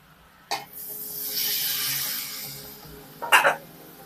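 Boiled akur greens are stirred into onions and spices in a pan, giving a soft sizzle and scraping swell between two short sharp knocks of the spoon against the pan.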